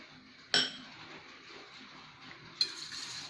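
Two sharp metallic clinks of a utensil against a bowl while salt and flour are mixed for onion rings, separated by soft scraping and a quiet kitchen background.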